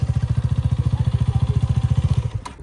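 A Bajaj Boxer motorcycle idles nearby with a loud, steady single-cylinder thump, evenly pulsing for about two seconds before it fades out, followed by a brief clatter.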